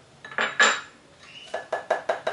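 A spoon stirs brigadeiro ingredients with chopped pistachio in a bowl, giving a few scraping strokes followed by a run of quick, evenly spaced clinks and taps against the dish.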